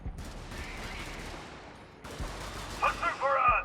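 Two short bursts of rapid automatic fire from an unupgraded Liberator assault rifle in Helldivers 2, sharp close cracks with decaying echoes, the second volley layered with clanking game effects and a voice faintly underneath.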